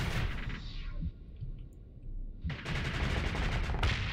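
Rapid-fire weapon with an accelerated ammo feeder in the StarSector space combat game, delivering dense bursts of thudding shots with a brief lull in the middle before the barrage resumes, loud and continuous.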